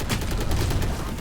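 Rapid Valorant gunfire rattles in dense repeated bursts, loud and close, with shots overlapping through the whole moment.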